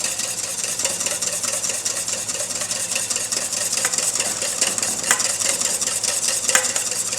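Eggs being whisked by hand in a bowl for fresh mayonnaise, a continuous fast metallic stirring with light clicks against the bowl, steady and close over a low background hum.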